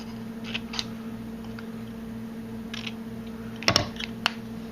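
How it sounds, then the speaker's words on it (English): Scissors snip petals from recycled aluminium sheet metal for a large metal rose: a few faint clicks early on, then a sharper cluster of close metallic snips near the end over a steady background hum. "you're going to cut off 2 petals."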